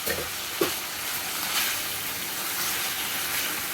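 Pork sizzling in a hot pan with its juices, a dense continuous hiss and crackle with a sharp clack of a utensil stirring near the start, close and steady.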